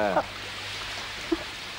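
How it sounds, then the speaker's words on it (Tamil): Steady rain falls as a constant broadband hiss throughout, with a short voice near the start and a faint tap midway. "ஏன் மழையில் நனையிற?"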